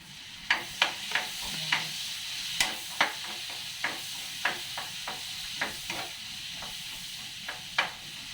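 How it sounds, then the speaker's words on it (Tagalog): Onion and ginger sautéing in a pan, a steady low sizzle broken by repeated sharp scrapes and taps of a spatula against the pan at an uneven rhythm, close and fairly quiet. "Nagisa naman natin ang sibuyas."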